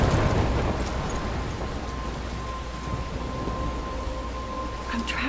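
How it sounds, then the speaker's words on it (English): Heavy rain pours continuously in the video game Life is Strange, with a low rumble of thunder opening loudly and fading under the dense, steady downpour. "I'm trapped in a storm."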